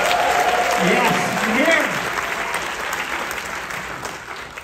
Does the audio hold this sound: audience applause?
yes